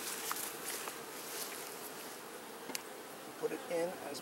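Honeybees buzz in a soft, continuous drone close by during a hive split, with faint handling noises of hive frames and a brief murmur of voice near the end.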